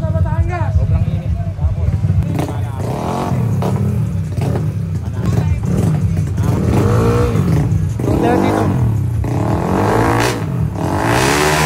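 Yamaha NMAX and Aerox scooters, one tuned to 232cc, race with loud, sustained engine revving and acceleration, while a crowd chatters and people talk over it throughout.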